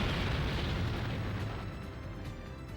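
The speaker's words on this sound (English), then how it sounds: "Explosion is a slight understatement." Rumbling explosions in the PlayStation role-playing game The Legend of Dragoon, a dense, continuous roar of overlapping blasts that slowly tapers off.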